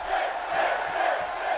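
Wrestling arena crowd in WWE 2K18 cheering, a steady dense roar of many voices with faint swelling chants, continuous and fairly loud throughout.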